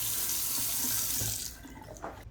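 A tap runs hard while a water heater is flushed, with a steady broadband rush of water that stops abruptly about two thirds through and leaves a quieter trickle.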